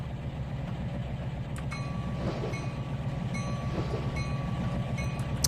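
Freight cars being switched in the Trainz 2019 railroad simulator, a steady low rumble of rolling stock with metallic squeals and clanks breaking through at intervals, close and continuous with no talk.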